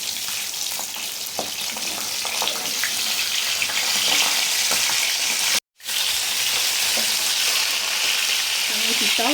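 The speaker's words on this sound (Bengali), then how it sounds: "আমি পিসটাও ভালো করে ভেজে নিচ্ছি" Catla fish pieces fry in hot oil with a dense, loud crackling sizzle that carries on steadily, broken once by a brief cut, with faint clinks of a utensil turning them.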